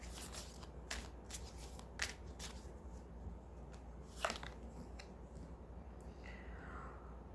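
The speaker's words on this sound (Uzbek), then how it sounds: "Men kartalarimizni aralashtirishni boshladim." Tarot cards being shuffled by hand, giving soft, close riffling and flicking bursts at an irregular pace in a quiet room.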